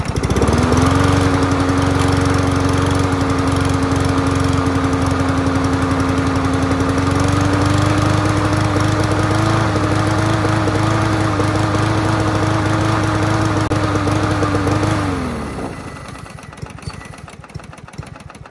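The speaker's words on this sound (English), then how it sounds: "So it started right up on the first pull, which blows my mind, but it has some sort of sputter to it." A push lawn mower engine runs loud and steady for about fifteen seconds with a faint uneven sputter in its drone, then cuts out and winds down into near quiet.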